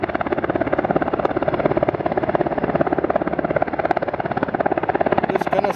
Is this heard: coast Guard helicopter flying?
yes